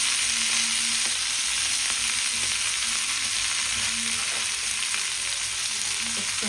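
Chopped fenugreek leaves fry over a low gas flame, a constant close sizzle broken by light scrapes and taps as they are stirred around the pan.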